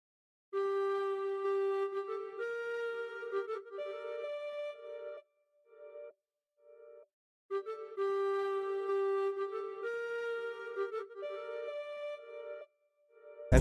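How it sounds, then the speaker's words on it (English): Aboriginal flute sample set to a velocity preset plays a simple repeating melodic pattern, clear breathy sustained tones in two phrases separated by brief pauses, alone without talk. "I had this Aboriginal flute again, but with the Aboriginal flute velocity preset"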